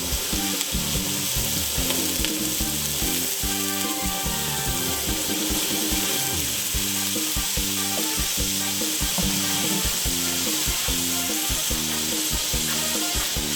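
Frog pieces stir-frying in a pan with wild shampoo ginger root and added water, a loud continuous sizzle broken by a quick regular rhythm of stirring scrapes close by.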